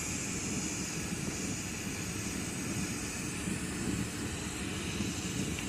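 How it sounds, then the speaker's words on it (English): A large torch flame roars in a steady, even hiss while heating a 16mm glass rod, constant and close with no talk. "I'm going to actually turn my flame down because it's a pretty big one"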